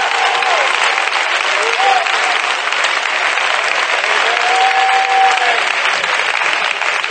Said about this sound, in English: Somebody clap your hands and give him praise.